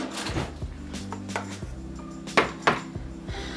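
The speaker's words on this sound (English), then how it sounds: "Let me actually just grab a spoon." A spoon grabbed from a container of utensils, with close metallic clinks and rattles, two sharper knocks standing out near the end, and a faint hum underneath.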